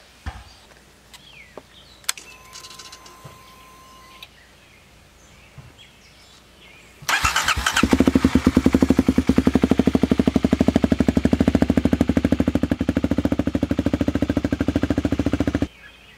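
A 2019 Kawasaki KLX 250 motorcycle engine fires up after a few quiet clicks, then runs loud and steady with a fast, even throbbing idle for about eight seconds before cutting off.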